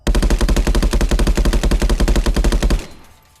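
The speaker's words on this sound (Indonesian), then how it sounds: "Untuk reload, misalnya saya habiskan peluru." Rapid automatic gunfire empties a magazine in a VR metaverse first-person shooter, a loud, evenly spaced burst of roughly two dozen shots that stops abruptly and is followed by a short fading tail.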